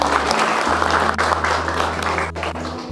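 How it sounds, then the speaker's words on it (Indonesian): An audience at a campus student orientation event in a hall claps steadily and fairly loudly for a few seconds, a dense continuous patter with a low hum underneath. "Kasih tepuk tangan dulu."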